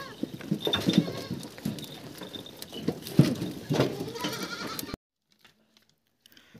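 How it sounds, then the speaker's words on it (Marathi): Goats eat tomatoes and spinach nearby, with busy crunching, rustling and shuffling, a few bleat-like calls, and hoof knocks. The noise stops abruptly, leaving near silence with faint ticks. "बघा शेळ्या कशा आवडीने टमाटे आणि पालक खात आहेत"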